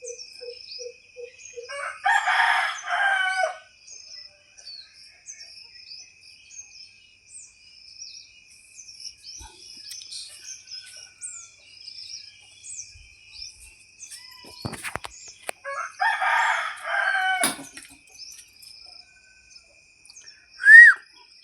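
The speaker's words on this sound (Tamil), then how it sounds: "எங்கள் வீட்டு சேவல் கூவிருச்சு." In a village in the morning, a rooster crows twice, the calls several seconds apart, over a quiet background of small birds chirping and a few brief knocks.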